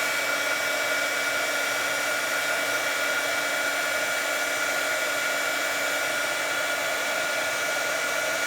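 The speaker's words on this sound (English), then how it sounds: "This is a great heat tool. Warms up really, really quick." Heat embossing tool blowing hot air while warming embossing powder on vintage slide mounts, a steady, loud, continuous fan whoosh and whine held without a break.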